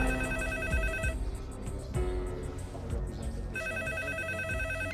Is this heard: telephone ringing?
yes